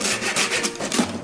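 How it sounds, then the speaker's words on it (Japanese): A hand saw cuts through the head of a huge tuna of over 150 kg, with rapid, steady back-and-forth rasping strokes, close and loud, with no talking. "最初はノコギリです。"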